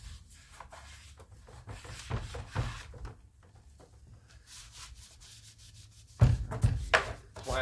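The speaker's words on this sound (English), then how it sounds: "We're just going to kind of just wipe this plastic off" A dirty plastic engine cover on a pressure washer is wiped clean by hand, giving uneven scrubbing and rubbing strokes, fairly close, with a louder burst of wiping near the end.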